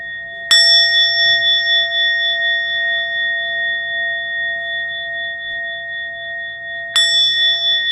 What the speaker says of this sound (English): We'll ring the bell 3 times